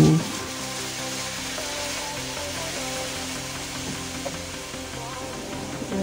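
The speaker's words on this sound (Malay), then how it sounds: "Kita tumis serai dulu." Lemongrass sautéing in a pan as a spice paste cooks for a Malay dish, giving a steady, moderately loud sizzle that runs unbroken through the whole stretch.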